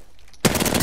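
Rapid gunfire from a fire mage in a video game breaks in abruptly after a quiet moment, a dense, loud burst of repeated shots.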